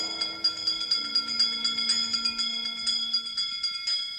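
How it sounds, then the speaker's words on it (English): A bell rings repeatedly in a steady rhythm, bright and sustained tones layered over a lingering hum, fairly close and clear with no voices. "give us a hint by ringing a bell."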